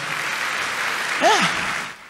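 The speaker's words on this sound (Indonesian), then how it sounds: "Tepuk tangan yang paling meriah buat Tuhan" A church youth revival congregation applauds at length, a broad wash of clapping from a large crowd, with a brief vocal whoop or tone rising over it partway through.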